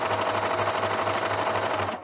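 A sewing machine runs steadily, stitching a lettuce edge hem on stretched fabric, its fast even whirring motor and rapid needle clatter loud and close for about two seconds before slowing to a stop.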